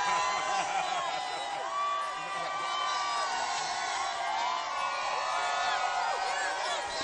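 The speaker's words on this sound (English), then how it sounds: "Listen to the crowd." Dense parade crowd for the Houston Astros celebration, cheering and screaming continuously, loud and close, with high whoops and shrieks layered over a steady roar throughout.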